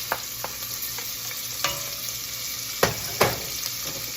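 Onions added to very hot sausage fat in a pot, a steady close sizzle with a few sharp clicks and scrapes from stirring, heard without talking.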